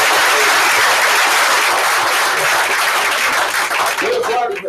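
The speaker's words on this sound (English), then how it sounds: "let's give everybody that was in this board a round of applause all the way around" A room of people at a board meeting gives a dense, steady round of applause that thins out near the end, with a few voices underneath.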